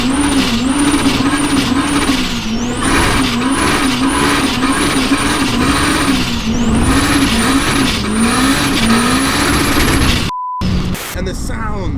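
A loud, sustained engine roar with a high whining turbo whistle over it, climbing and dipping as a 520 hp turbocharged K20-swapped Metro accelerates hard, then cutting off abruptly near the end.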